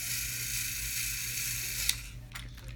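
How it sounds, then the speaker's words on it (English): A Tomy toy Diesel train's motor runs with a steady, quiet whirring hum, close and continuous, with a few small clicks near the end. "this is sort of a pretty quiet motor"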